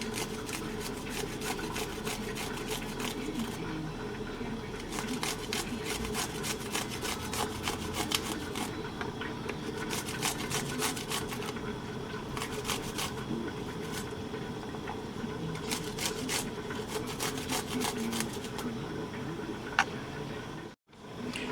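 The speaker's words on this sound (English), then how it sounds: "I am going to use this side of the grater to grate the garlic" About ten garlic cloves are rubbed against a grater in bursts of rapid rasping strokes, close and steady, with short pauses between runs over a low background hum.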